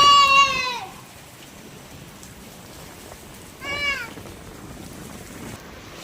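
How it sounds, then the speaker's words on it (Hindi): Heavy rain at home makes a steady, even hiss throughout, while a cat meows loudly twice in the foreground over it. "यहाँ वापस आई घर को, बहुत जोर की बारिश होने लगी।"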